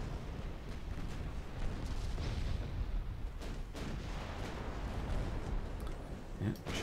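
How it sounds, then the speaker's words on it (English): Warship secondary guns fire in a naval battle video game, a dense, continuous barrage of overlapping booms and rumbling blasts that stays loud throughout with no clear gaps. "Facing a lot of secondary fire here."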